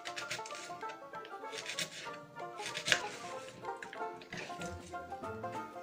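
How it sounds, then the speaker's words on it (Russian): Quick knife cuts through an onion on a board, a series of crisp chopping taps at a steady pace, close and fairly quiet. "Лук нарезаю дольками."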